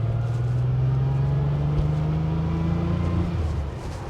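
The engine of a 1978 Porsche 911 SC Targa, heard from inside, pulls through a gear with a steady drone rising in pitch, then drops at a shift near the end. No voices are heard.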